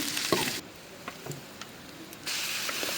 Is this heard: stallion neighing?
no